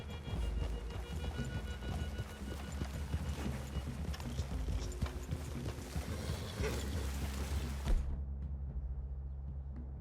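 Horses clip-clopping in Red Dead Redemption 2, hooves thudding steadily over a dense bed of rain-like ambience and low rumble, continuing without pause until the sound cuts off abruptly near the end.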